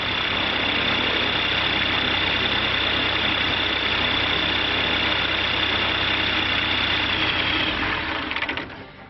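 A Rotax 912 aircraft engine runs steadily during carburetor synchronization, a loud continuous drone with buzzing vibration and a high whine that holds without a break before cutting off abruptly near the end.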